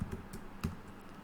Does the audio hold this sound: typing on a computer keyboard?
yes